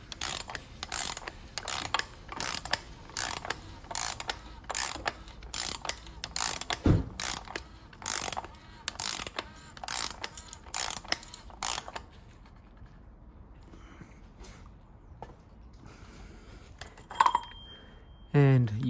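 A ratchet wrench tightens the oil filter housing cap on a Toyota Verso, giving rapid repeated metallic clicks for about twelve seconds, then quieter handling and a few clanks of tools on metal.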